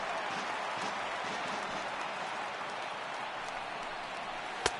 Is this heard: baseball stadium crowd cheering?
yes